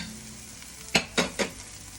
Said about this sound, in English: So we're putting the stem now of the mushroom. Let it cook a little bit.